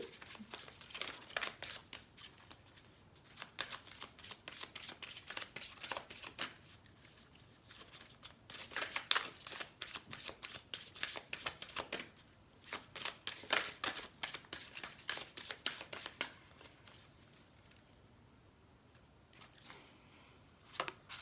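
Tarot cards riffle and slap in rapid, irregular bursts of shuffling for a reading, close and crisp, continuing for about twenty seconds with brief pauses between flurries.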